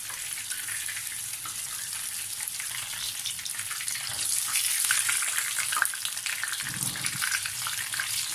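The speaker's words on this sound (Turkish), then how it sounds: "Diğer yönünü de aynı bu şekilde kızartalım." Continuous crackling sizzle of cheese-filled pişi dough frying in hot oil, close up, growing slightly louder midway, with no talking.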